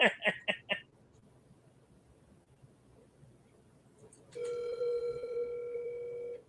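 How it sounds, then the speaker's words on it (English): A phone call is placed: a quick burst of dialing beeps, a quiet pause, then a steady electronic ringing tone that holds for about two seconds, with no voices. "You could just ring his phone."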